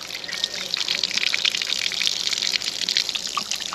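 Water runs from a van's onboard water system in a steady, hissing gush that keeps going without a break, close by and fairly loud.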